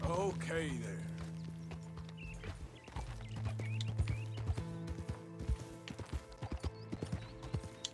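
Horse hooves clip-clopping in Red Dead Redemption 2, a steady run of close, distinct hoof strikes with an occasional whinny, under someone talking and continuous in-game music.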